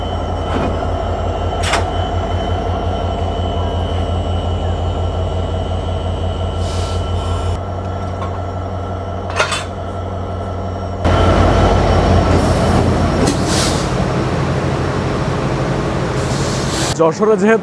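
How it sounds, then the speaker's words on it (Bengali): A diesel locomotive of the Benapole Express idles at Jashore station while being uncoupled from the train, a steady low rumble broken by a few sharp metallic clanks; the engine note shifts and grows louder partway through. "এখান থেকে লোকোমোটিভকে খুলে ফেলা হচ্ছে যশোরে যেহেতু"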